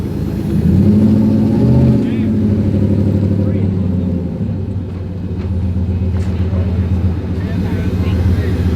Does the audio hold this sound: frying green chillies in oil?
no